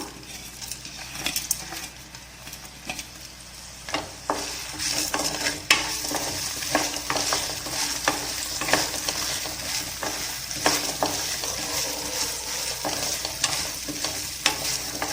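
Fenugreek seeds and spices crackle and sizzle steadily in hot oil for a tomato tamarind curry, with a spoon scraping and stirring the pan now and then, close by and fairly loud.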